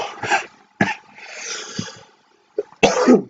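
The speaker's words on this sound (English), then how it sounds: "I still have a little cough" A few harsh, close coughs in quick clusters, with rough raspy breaths between them and a short pause before the final fit.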